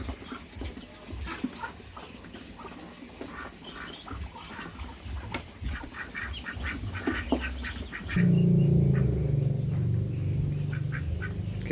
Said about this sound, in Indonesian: entoknya makan dengan lahapnya